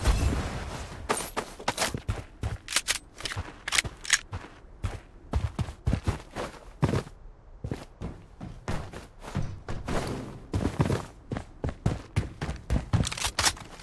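Gunfire in the shooter game BloodStrike, a dense irregular run of sharp shots and impacts. Single cracks and quick clusters go on steadily for about fourteen seconds at moderate loudness.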